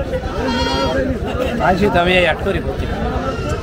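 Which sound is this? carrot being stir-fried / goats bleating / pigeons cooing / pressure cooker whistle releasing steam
goats bleating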